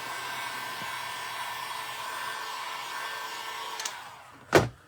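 A hair dryer on a cool setting blows air over a wooden barn door sign, a steady close whooshing drone that cuts off near the end, followed by a short sharp knock.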